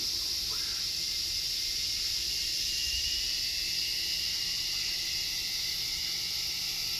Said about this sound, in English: The cicadas are acting up.